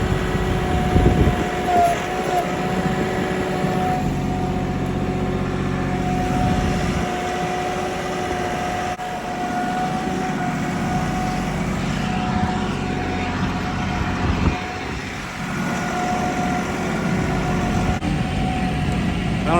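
A tractor engine running steadily in 4-wheel drive without rear ballast, a loud continuous droning hum with a sustained tonal whine, close and unbroken, with slight shifts in load.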